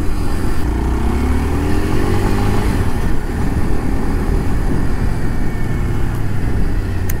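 A Kawasaki KLX 230 dirt bike engine idles and revs steadily up close, a continuous low throaty rumble with no talking.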